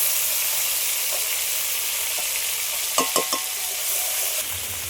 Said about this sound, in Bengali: কাশ্মীরি লঙ্কা আর ঝাল লঙ্কাটা একটু হালকা করে ভেজে নিয়েছি